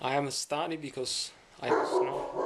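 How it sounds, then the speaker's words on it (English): A pet dog barks a few times indoors, short sharp yips heard close by and mixed in with a person talking from bed. "That's my dog."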